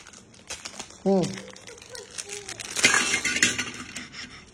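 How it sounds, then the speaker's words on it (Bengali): An ice cream wrapper is torn open with teeth, making close crinkling and tearing plastic sounds while people talk over it in a lively home setting. "এটা খুলছি, দাঁত দিয়ে খুলতেছি"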